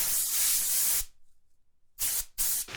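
A spray paint can coats a Glock 19x pistol in M81 camouflage, giving loud, close hissing bursts: one long spray, a silent pause, then two shorter blasts in quick succession.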